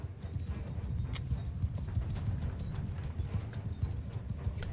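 Hooves of mounted horse archers pound across a battlefield in Mount & Blade 2: Bannerlord, a steady dense clatter of many horses close by, with no voices over the galloping.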